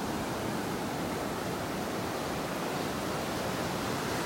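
Surf breaks along a beach in North Naples, Florida, heard as a constant, dense roar of waves with no distinct individual crashes and no voices.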